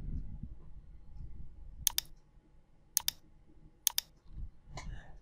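Three quick double clicks of a computer mouse, evenly spaced, crisp and close over a quiet hum with faint background rumble.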